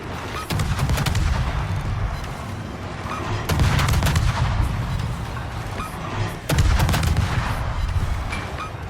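Naval guns of the Akizuki destroyer firing in World of Warships: three heavy volleys roughly three seconds apart, each a sharp loud blast over a constant roaring engine and sea rumble, with no voices.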